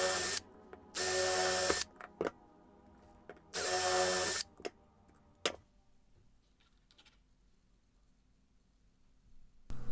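A power drill bores through a galvanized sheet-metal part in two loud, sustained bursts of about a second each, followed by quieter clicks and handling noises, then near silence.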